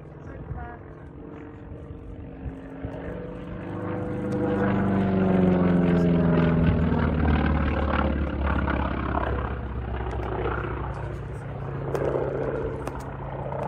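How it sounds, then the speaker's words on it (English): A Grumman Wildcat warbird flying a solo airshow display at Sywell, its piston engine droning and swelling into a loud, close pass with a sweeping pitch shift before easing off into the distance. "The Wildcat peeling off from the back of the formation to put on his solo performance."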